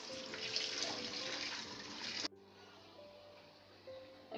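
Tap water runs steadily while tomatoes are washed for homemade tomato sauce, a broad rushing splash that cuts off abruptly after about two seconds, leaving quiet room tone with faint clinks.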